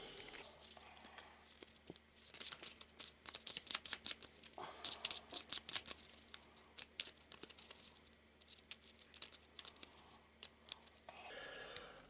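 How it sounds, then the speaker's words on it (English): Board game cards from Perdition's Mouth: Abyssal Rift being shuffled on a tabletop, with bursts of crisp riffling and rapid flicking, then softer papery handling and squaring of the deck, close and alone. "give them a shuffle"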